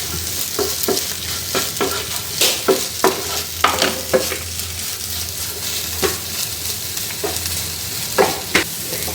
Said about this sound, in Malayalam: നന്നായിട്ടൊന്ന് ചിക്കിയെടുക്കാം